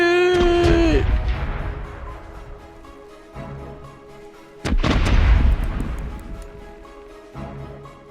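Loud cannon or artillery fire in repeated booming blasts, one near the start and another heavy burst mid-clip, each followed by a long rumbling decay, with fainter booms and sustained low rumble between them.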